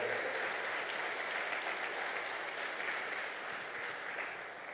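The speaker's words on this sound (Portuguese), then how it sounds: "dê uma salva de palmas ao Senhor" A church congregation claps in praise during a sermon, steady dense applause heard faintly and at a distance, tapering off slightly toward the end.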